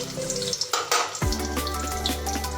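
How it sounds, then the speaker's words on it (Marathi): Finely chopped onion hits two spoons of hot oil in a pan with a sudden loud burst of frying, then settles into a dense, close crackle with scattered spits and light clinks, no talking. "आता मी एक बारीक चिरलेला कांदा टाकत आहे"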